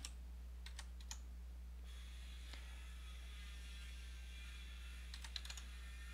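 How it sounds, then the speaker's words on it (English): Keystrokes on a computer keyboard while entering Chinese text, a few scattered taps at the start and a brief flurry near the end, faint and close over a steady electrical hum and buzz, with no talking. "So I'm gonna type Chinese."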